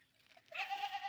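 A village goat gives one loud, wavering bleat that rises suddenly after a quiet start and holds to the end.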